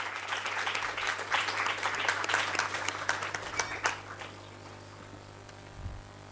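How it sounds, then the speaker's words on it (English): Audience applause welcoming a speaker at an endowment lecture, a few seconds of scattered hand clapping that thins out and fades, with a faint steady hum underneath. "Let us welcome the speaker with a round of applause."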